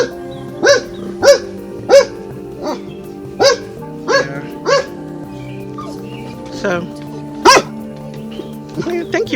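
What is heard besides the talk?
dog barking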